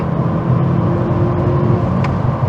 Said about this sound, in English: Drop into third. That's all the way down. Nice third gear pull up to 80.